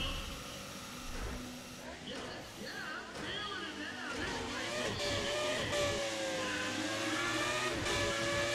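Race cars in a drag race in Need for Speed: ProStreet, engines droning and revving steadily with rising and falling pitch sweeps, loud and continuous throughout.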